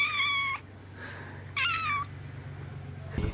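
A cat meows twice loudly and close, drawn-out and plaintive, over a low steady hum, followed by a brief rustling thump.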